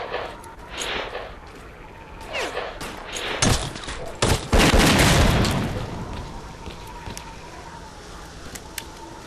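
Grenade explosions and gunfire in S.T.A.L.K.E.R., with scattered shots building to a loud, close blast and a long rumbling decay, followed by quieter ambience.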